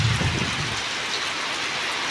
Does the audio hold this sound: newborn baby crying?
no